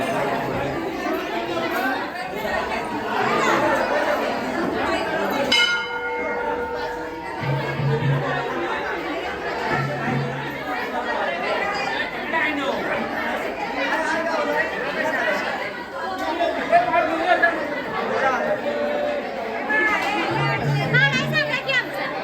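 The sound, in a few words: crowd chatter at a busy temple procession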